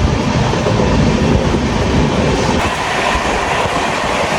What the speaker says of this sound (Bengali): ট্রেন কিন্তু ভালো স্পিডে চলছে